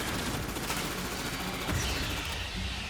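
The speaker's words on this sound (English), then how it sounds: "Gunfire!" Dense, continuous video game gunfire from Aliens: Fireteam Elite crackles in rapid bursts, a loud wash of shots with no pauses.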